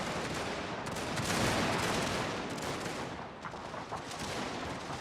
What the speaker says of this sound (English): They're aiming past everyone and firing on the one guard unit on the hill.